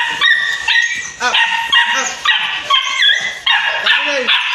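A one-year-old male golden retriever at a pet market barks and yips repeatedly in close, loud, uneven bursts, with whimpering tones between them.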